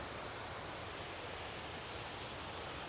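Steady broadband rush of waterfalls along Canada Creek Trail near Suches, Georgia, a continuous even roar with no breaks, moderately distant and alone without voices.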